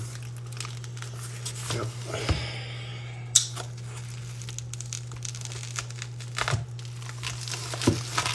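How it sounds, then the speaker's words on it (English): A package of Star Wars comics is cut open, bringing crinkling, tearing and rustling plastic in bursts with a few sharp knocks over a constant electrical hum, close by, with a brief spoken word. "And so let's cut this open."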